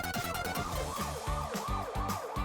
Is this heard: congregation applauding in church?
no